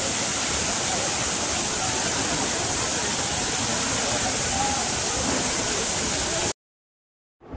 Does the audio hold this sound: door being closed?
no